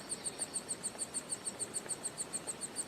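Rapid, regular high-pitched chirps repeating incessantly, like hungry chicks calling, faint against a soft background hiss.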